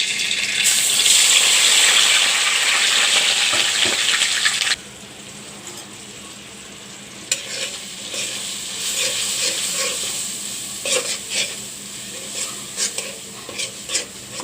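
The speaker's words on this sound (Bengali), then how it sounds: "এর মধ্যে আমি বাটা মশলাগুলো দিয়ে দিচ্ছি।" Ground spice paste frying in a pan for a taro stolon and shrimp curry: a loud, dense hiss for the first five seconds, then a quieter sizzle with scattered stirring scrapes and clicks.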